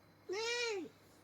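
A cat gives a single clear, drawn-out meow lasting about half a second, close and fairly loud against a quiet background.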